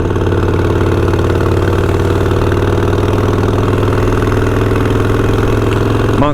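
Steady car engine hum while cruising around on a casual Labor Day drive, a continuous low rumble with firm harmonic drone, loud and close throughout, no talking.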